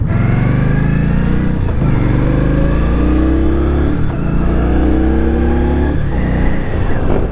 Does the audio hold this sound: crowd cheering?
no